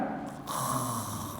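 A voice imitates snoring, a short nasal snort and rasping breath lasting just over a second, fairly loud and close with steady room noise behind it.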